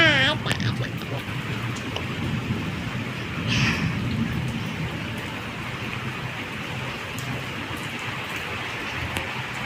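Steady heavy rain pours down as a storm blows through, a dense continuous hiss with gusty rumble underneath, and children's voices speak briefly near the start.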